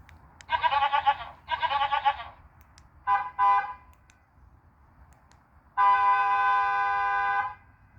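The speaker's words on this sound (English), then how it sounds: "So now the box has a horn, or as a lot of people call it, the goat machine." A goat-sound novelty horn on a van bleats like a goat: two quick blasts, a couple of short chirps, then one long sustained bleat.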